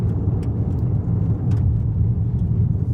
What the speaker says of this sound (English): all you can hear is gravel